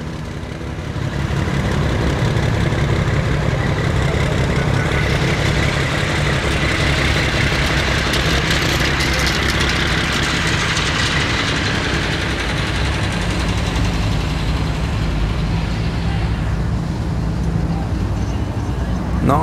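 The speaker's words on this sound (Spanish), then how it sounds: "Ya escucharon también la Cummins L10 como se oye." A Cummins L10 diesel engine in a Transportes de Guadalupe bus arriving at a bus expo in Guadalajara, a continuous broad rumbling drone close by, steady throughout with dense mechanical and ambient noise.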